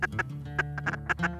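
Ducks quack in quick, repeated calls out in front during a duck hunt, a clear close string of nasal quacks with no talk over them.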